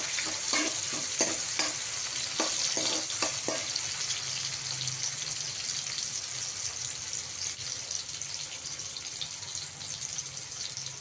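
Onion frying in oil until browned for a pigeon pea (tur) vegetable curry, giving a steady close sizzle with scattered crackles and a few scraping stir strokes in the first seconds, no talk.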